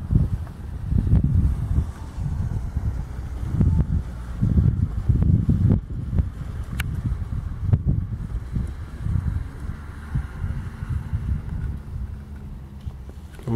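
Wind gusting across a feather grass steppe on the banks of the Dnieper near Khortytsia island, a steady rushing roar with low buffeting gusts on the microphone throughout, no voices.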